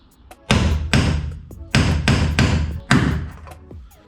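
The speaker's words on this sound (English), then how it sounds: "you just pop the cap off and use your punch." A metal punch is hammered against a drilled-out aluminum rivet on a jon boat hull, giving about seven sharp, loud strikes in an uneven rhythm, each ringing briefly before the next.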